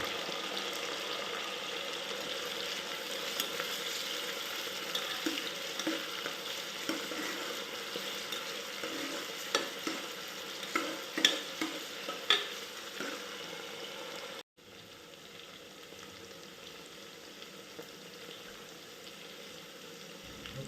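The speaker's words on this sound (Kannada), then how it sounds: "ಟೊಮೊಟೊನೂ ಅಷ್ಟೇ ಸಾಫ್ಟ್ ಆಗೋ ತನಕ ಫ್ರೈ ಮಾಡಿ" Chopped tomatoes sizzle and fry in a pan for avarekalu bath, a steady crackling hiss broken by occasional scraping stirs, then continuing more quietly after an abrupt cut partway through.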